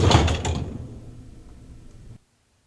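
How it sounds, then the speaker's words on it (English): A Frigidaire French door refrigerator's freezer door opening gives a close, fairly loud rumbling scrape that slowly fades over about two seconds and then cuts off into silence. "carefully open the freezer door"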